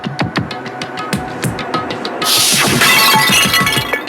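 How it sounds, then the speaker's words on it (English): A bottle smashed over a head in the Danganronpa video game, a loud bright glass shatter with scattering shards after a run of sharp clicking taps. "I grabbed the Monokuma bottle from the shelf and smashed it across her head."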